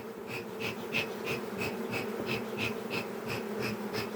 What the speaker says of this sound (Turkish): Arı huysuzlandı biraz.